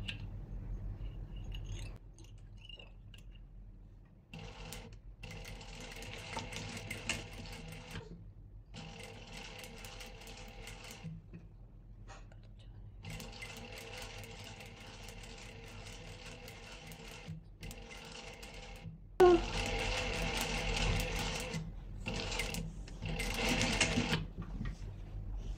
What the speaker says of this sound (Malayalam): ഇനിതാ ഇവിടെ സ്റ്റിച്ച് ഒന്ന് ടൈറ്റ് ആക്കി കൊടുക്കുക, സ്റ്റിച്ച് ഉറപ്പിച്ച് കൊടുക്കണം കേട്ടോ.